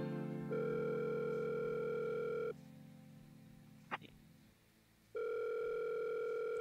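A phone call rings out in the horror game Happy Humble Burger Barn: two long, steady electronic ring tones separated by a silent gap with a faint click, clear and fairly close.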